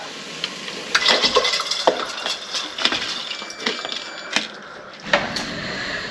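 Soaked rice with potatoes, paneer and peas is stirred in a pot for pulao, giving a series of close scraping and clinking strokes in an uneven rhythm.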